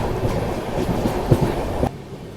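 A nearby train rolls past at night alongside the Purushottam Express, its wheels clattering loudly and steadily before the sound drops off abruptly near the end.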